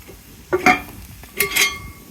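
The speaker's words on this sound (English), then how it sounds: "So let's give it a quick stir" Cowboy chilli being stirred in a pot over a campfire, with two short bursts of scraping and clinking a second apart, close and moderately loud.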